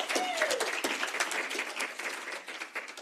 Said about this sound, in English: I think we should do a round of applause.